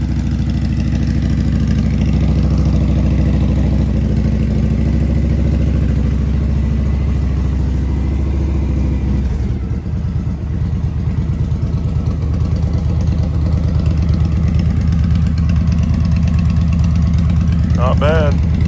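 A 2003 Victory Vegas VFXRT motorcycle fitted with slip-on mufflers idles loud and close in a steady deep throb, with a brief dip around the middle before the rumble settles again.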